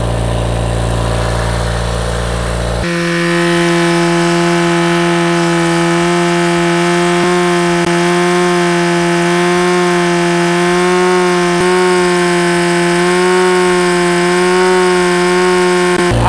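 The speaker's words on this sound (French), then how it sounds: "On laisse tourner le véhicule." A car engine idles steadily while intake system cleaner is sprayed into the intake, a close, even mechanical hum that holds for the whole stretch after a brief louder opening.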